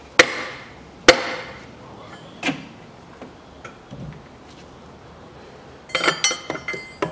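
A wrench on a 36 mm fan nut is struck with sharp, separate metallic knocks while a Land Rover Discovery 3 fan is loosened, several spaced hits followed by a quick cluster of lighter clinks near the end.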